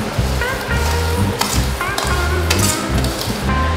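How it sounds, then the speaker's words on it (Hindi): Curry leaves fry lightly in hot oil while making poha namkeen, giving a steady close sizzle with stirring scrapes and a few brief metallic clinks of a utensil against the pan. "अब इसी के साथ हम इसमें डालेंगे 15 से 20 करी पत्ते और इसे भी हल्का सा फ्राई कर लेंगे"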